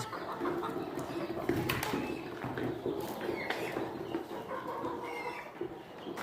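Several chickens cluck and murmur continuously nearby inside a coop in the evening, with occasional louder squawks over a dense background of rustling activity.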